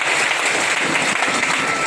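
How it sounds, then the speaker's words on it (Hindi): Loud, steady applause from an audience at a company event in Boisar, filling the whole moment without any speech over it. "जोरदार तालियां उनके लिए।"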